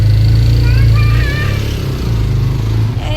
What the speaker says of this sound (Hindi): अब हम भी देखते हैं कैसे बाइक चढ़ाएंगे